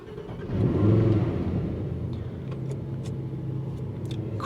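A Lamborghini Huracan Tecnica engine cranks and fires up with a quick rev, then settles into a deep, steady idle close by.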